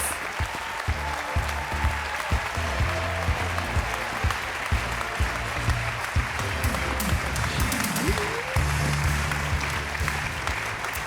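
Loud, sustained applause from a large festival audience at the Reeperbahn Festival 2023 opening show, steady clapping filling the whole stretch with a bit of background music or crowd noise underneath.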